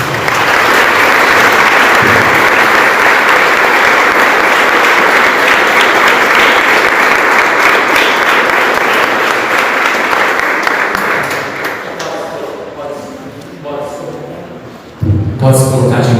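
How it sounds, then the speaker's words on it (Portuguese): A church congregation in Botucatu, Brazil applauds during a worship service: loud, dense clapping that holds steady for about eleven seconds, then thins and fades, and a voice breaks in at the end. "Vamos aplaudir Jesus."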